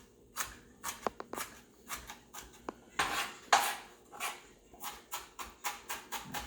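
A cutting knife chops on a board in quick, uneven bursts of crisp knocks, close and fairly quiet, with short pauses between runs of strokes.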